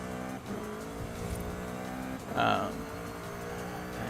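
A car in the Forza Horizon 5 racing game brakes hard, with engine drone and a brief loud tire skid squeal midway, all heard continuously through game audio.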